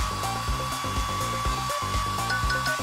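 A hair dryer runs steadily with a high whine and a low rhythmic motor pulsing underneath, loud and close.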